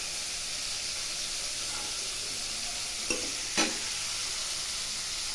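Large freshwater prawns frying in hot oil, giving a steady close hiss and sizzle with two brief clinks as they are turned in the pan.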